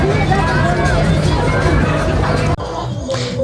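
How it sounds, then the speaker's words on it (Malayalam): Dense babble of a large crowd fills a busy Ramadan festival market in Dubai, a continuous murmur of many voices close around, with nearby talk mixed in and a brief dip near the end. "ഈ സൈഡിലെ ഭയങ്കര ആൾക്കൂട്ടം"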